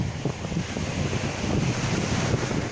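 Sea waves and wind on an Azov Sea beach, a continuous close rush of surf mixed with gusty wind buffeting the microphone, with no voices.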